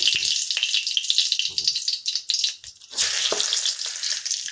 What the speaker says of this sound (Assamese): এতিয়া মই গৰম হৈ থকা ইয়াতে তেজপাত দি দিলোঁ এনেদৰে